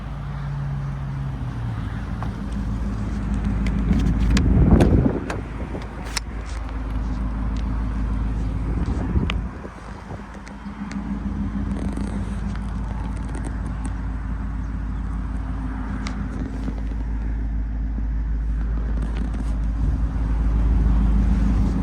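A 2015 Ford Mustang GT coupe with a five-speed manual and a Roush exhaust idles and revs, its deep rumble steady and loud, swelling briefly near the start and again midway, without talk.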